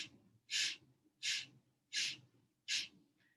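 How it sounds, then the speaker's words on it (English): Four deep, forceful breaths during a yoga exercise, each a strong airy rush in an even, slow rhythm. They are close and clear, with a faint softer breath at the end and no talking. "Inhale fully and exhale."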